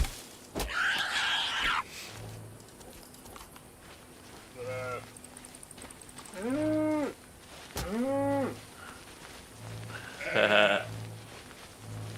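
Cows in the survival game Force of Nature 2 moo repeatedly, several long drawn-out lowing calls with short pauses between them, clear and fairly close, with a few other animal noises mixed in.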